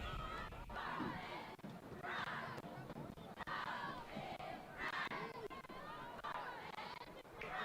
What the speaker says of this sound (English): We hear the cheerleaders cheering hard.